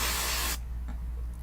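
Aerosol color spray hisses from a can onto the roots of a synthetic wig in one loud, steady burst that cuts off abruptly, leaving a faint hum and light rattling behind.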